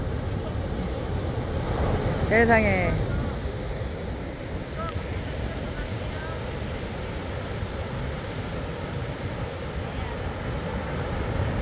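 Sea swells rolling onto the East Sea shore at Gangneung, South Korea, a continuous roar of surf and wind close by, while a man briefly exclaims in amazement over it.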